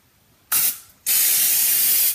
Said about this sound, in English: Just spray a healthy amount.